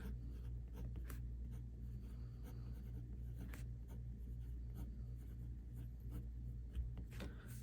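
Pilot Metropolitan fountain pen with a 1.1 stub nib and blue-black ink writing on paper, a faint continuous scratch of strokes with small ticks, close over a low steady background hum.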